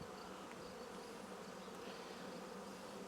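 Honey bees buzzing steadily around an open hive during the first inspection of a new swarm, a dense continuous drone that stays close and even throughout, with no voices.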